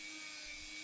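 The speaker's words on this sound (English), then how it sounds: "all I'm going to use is my little rotary drill" A small rotary drill with a wire wheel whirs steadily, scrubbing the chassis of a 1972 Matchbox Beetle Streaker 'Drag Scorcher' model car, a close, continuous high-pitched grind with no voices.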